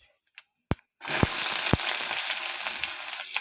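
Onions hit hot oil in a pan, where a few seasoning seeds have been popping, and set off a sudden loud, continuous sizzle that holds steady at close range with no voices.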